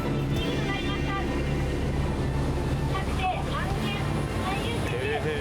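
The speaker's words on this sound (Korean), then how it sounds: "모두가 전의를 불태우듯 힘찬 엔진 소리를 내며 바다로 나아갑니다." Fishing boats entered in a marlin fishing tournament in Ibaraki, Japan, head out to sea with a steady, loud engine roar mixed with wind and water noise.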